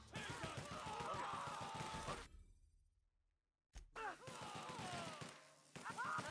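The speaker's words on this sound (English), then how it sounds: "Returning fire!" Gunfire in The Outer Worlds, played on PS5, bursts in rapid dense volleys, breaks off into near silence, then resumes in loud close bursts, with grunting voices mixed in.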